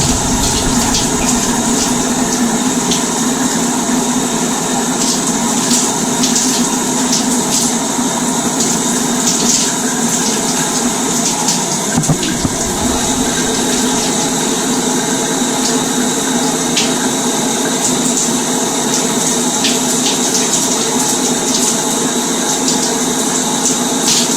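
Water runs steadily from a tap in a constant loud gush, close by, warm water for washing hair, unchanging throughout with no talking.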